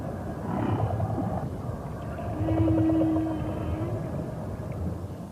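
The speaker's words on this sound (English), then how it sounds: "Whales migrate across the oceans, skillfully manipulating and analysing sound in a complex manner to communicate with fellow whales" Whale vocalizations recorded underwater: a long tonal moan and shorter pulsed calls rise over a steady low ocean rumble, moderately loud and continuous, with no voices.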